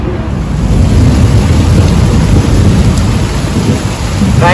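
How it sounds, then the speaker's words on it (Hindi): Loud thunder crackles and rumbles through a heavy storm, mixed with steady pouring rain drumming on surfaces and a little wind, continuous and close throughout. "इतना ज्यादा जोर जोर का बिजली कड़क रहा है"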